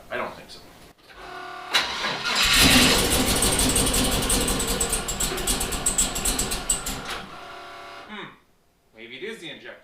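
Twin-turbo LS engine cranking and turning over with the rear four injectors unhooked, a loud sustained grinding churn of several seconds that cuts off, with a voice talking afterward.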